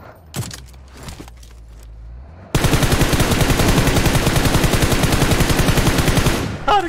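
Sustained automatic gunfire at a vehicle in PUBG Mobile, a long rapid burst of evenly spaced shots, loud and close, preceded by a few sparse clicks and thuds.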